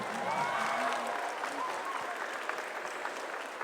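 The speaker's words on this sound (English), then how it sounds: "A big round of applause for our judges tonight" Applause from the audience at a Dreamhack cosplay championship greets the judges: steady, moderately loud clapping with crowd murmur and a voice or two underneath, sustained throughout without a clear break.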